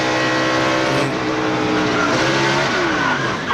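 A NASCAR stock car at the 2004 Pop Secret 500 roars past on the track, a loud engine note with shifting pitch as it goes by, standing alone without talk.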